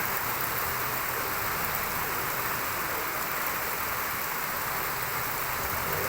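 Steady, dense rain hiss pours down without a break, a broad wash of drops on surfaces with no voices.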